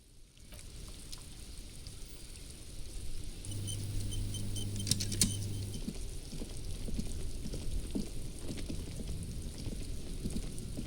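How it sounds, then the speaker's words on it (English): Steady rain patters in the video game Disco Elysium, a continuous soft hiss of falling drops with a brief low tone partway through and no voices. "This rain will not let up anytime soon."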